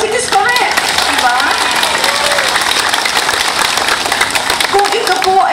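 Audience applause at a political rally in Paniqui, Tarlac, a steady dense clapping that runs loud and continuous throughout, with voices mixed in beneath it.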